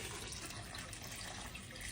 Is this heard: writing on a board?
no